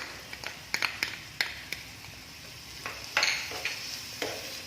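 Crushed ginger, garlic and green chillies fry in a pan with a light sizzle while a spoon stirs them, giving a series of close, sharp clicks and scrapes against the metal, with no voices.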